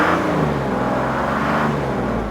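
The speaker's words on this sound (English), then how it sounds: "just by revving the engine while I'm watching the voltage" A Mercedes E300 W210 engine is held at raised revs for a moment, giving a steady, close, fairly loud hum with only a slight swell in pitch.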